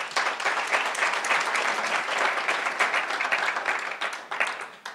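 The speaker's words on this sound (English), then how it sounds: "Would you, Neil, stand and take a round of applause?" An audience at a New School event on financial regulation claps for a guest, sustained, close applause from a full room that stays strong before tapering slightly near the end.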